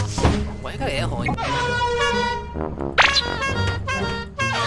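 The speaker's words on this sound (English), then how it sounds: "Why you got an air horn?" A long, loud air horn blast in the video game Lethal Company drones through the clip, harsh and brassy, with voices talking over it and a brief sharp burst near the end.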